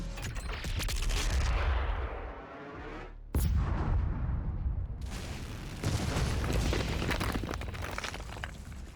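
A weapon firing in the video game DOOM Eternal, with loud booming blasts and rumbling explosions; the sound cuts out briefly before heavy firing resumes and continues to the end.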